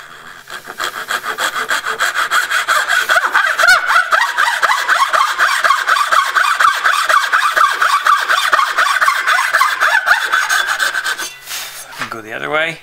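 A hacksaw cuts down to a marked line in a wooden board for hand-cut dovetails, a loud, steady rasping of quick back-and-forth strokes lasting about eleven seconds before it stops.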